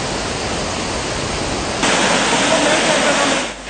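Water released from reservoir sluice gates into the Kala Oya river rushes steadily as a loud, continuous broadband roar that swells noticeably midway and holds, with no one talking.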